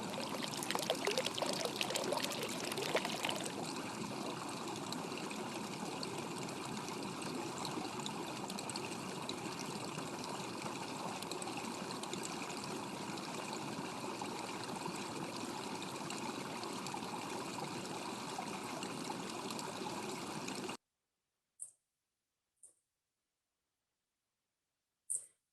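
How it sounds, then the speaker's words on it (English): Water bubbles and pours steadily in a fountain from an exhibit's video art, a constant dense rushing stream that cuts off abruptly, followed by a few faint clicks in silence. "As you walk around the exhibit, you can hear the water bubbling"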